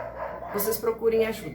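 Several dogs barking in short bursts somewhere nearby, partly under a voice talking over them.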